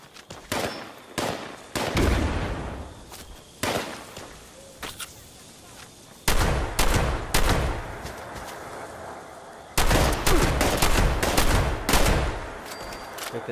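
Repeated shotgun blasts and scattered gunfire in Fallout 76, sharp loud bursts coming in irregular clusters with short quiet gaps between them and a few fainter reports mixed in.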